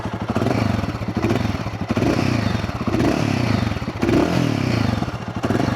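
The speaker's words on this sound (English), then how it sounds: "So this is how it sounds in the cold start, and if I rev it," Royal Enfield Guerrilla motorcycle engine just after a cold start, revved repeatedly with a loud, continuous exhaust note and surging throttle blips, close by with no talking.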